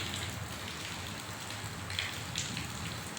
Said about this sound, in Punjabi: ਦੇਖੋ ਕਿੰਨਾ ਮੀਂਹ ਪੈ ਰਿਹਾ